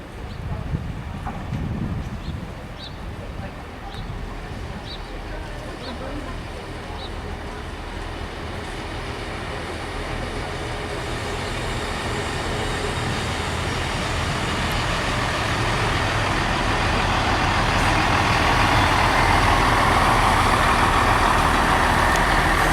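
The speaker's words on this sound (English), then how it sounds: "There goes the 1535 Avanti West Coast service to London Newton." An Avanti West Coast passenger train heading for London passes a station in Chester, a broad rumbling roar that builds steadily and grows louder as it nears, with someone talking over it.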